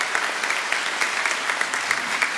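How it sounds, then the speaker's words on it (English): An audience at a school awards day ceremony claps steadily, a dense even round of applause with no voices. "That deserves a round of applause."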